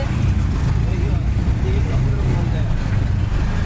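Busy traffic flows along OMR road with autos and cars, a continuous low engine rumble and passing vehicles close by, and a person talks over it.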